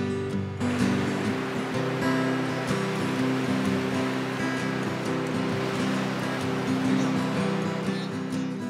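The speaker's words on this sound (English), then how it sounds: "It is severely windy out right now." Severe, hurricane-force wind tears through trees outdoors in a continuous surf-like roar, swelling and easing slightly in gusts, with faint low tones mixed in.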